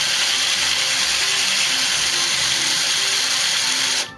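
A power drill bores into a phone being taken apart for repair, working from the front of the handset; a steady, loud, continuous whine with rattling mechanical texture runs throughout, cutting off abruptly near the end.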